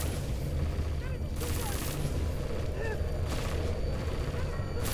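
Weapon fire in the video game Deus Ex: Mankind Divided forms a continuous, dense barrage of shots that rattles on without letup, fairly distant and blurred into a steady roar.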